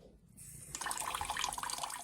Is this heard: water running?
yes